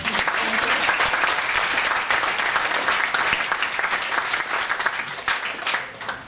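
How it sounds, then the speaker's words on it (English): An audience claps together after a blindfolded echolocation demonstration, dense steady applause from many hands filling the room, close and loud, tapering slightly near the end. "if we could have a round of applause for our"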